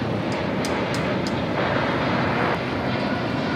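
Jet aircraft at LAX spooled up for takeoff, a steady broad roar holding level throughout with no talk.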